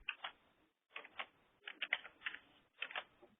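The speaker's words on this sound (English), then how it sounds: "You hear a little bit of typing and breathing on this end" Quiet keyboard typing on a conference call line, several short bursts of clustered key taps with pauses, faint and thin as if heard through a phone connection.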